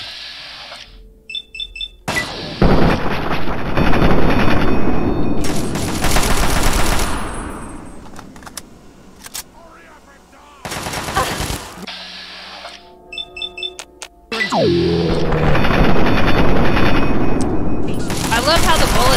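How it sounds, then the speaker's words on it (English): Gunfire in the video game Fallout 3 comes as loud, rapid automatic bursts in several long stretches, mixed with game sound effects, beeps and short quiet gaps between volleys. "I love how the bullets shoot out of the gun at all angles instead of straight."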